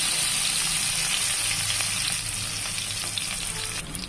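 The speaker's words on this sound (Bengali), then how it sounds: "তেল দিলাম, পরিমাণ মতো তেল দিয়ে দিলাম।" Oil sizzles loudly and steadily in a pan at the start of cooking pulao, a dense continuous hiss that eases slightly toward the end, with no voices.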